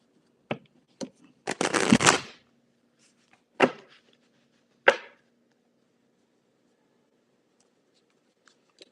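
A few sharp card snaps followed by a quick riffle burst of shuffling cards for a reading, then two more crisp taps, close and fairly quiet.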